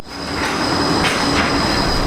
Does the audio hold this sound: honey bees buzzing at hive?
no